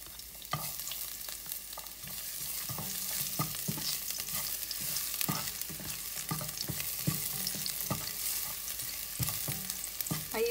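Garlic frying in a pan over medium heat, a soft continuous sizzle broken by scattered crackles and the scrape of stirring, with no talking.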